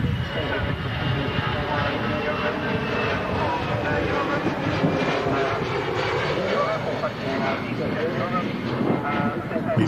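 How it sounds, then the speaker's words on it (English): An EasyJet airliner taking off, a steady broad jet roar sustained throughout at moderate distance, with people chatting over it. "EasyJet off to Middleland."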